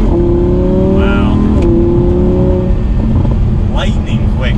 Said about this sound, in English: So feel that acceleration with just everything up the way it is